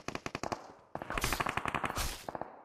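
Bursts of automatic gunfire from the PUBG Mobile battle royale, rapid repeated shots in short volleys with a denser, louder sustained stretch in the middle, no talking over it.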